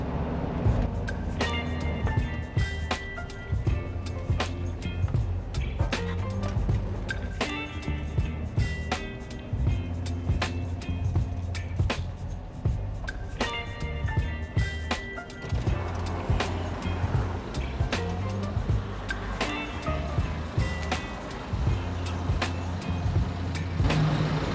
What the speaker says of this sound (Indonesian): Jadi truk gede-gede banyak banget ini